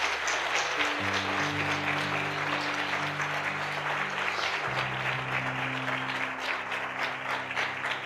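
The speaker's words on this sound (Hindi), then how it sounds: "आइए यीशु के लिए एक अच्छी ताली बजाएंगे।" A church congregation applauds steadily throughout, a dense, sustained wash of clapping with a sustained musical tone underneath.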